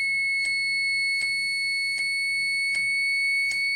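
A steady, piercing electronic tone from a three-mode tone generator circuit, with a rhythmic pulse about every three-quarters of a second, like a small alarm buzzer, sounding alone.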